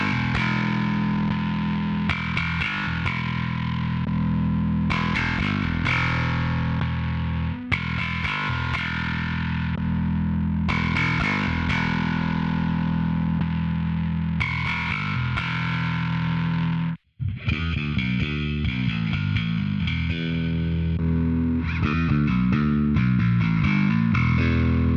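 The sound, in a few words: bass through Neural DSP Quad Cortex Mini without cabinet simulation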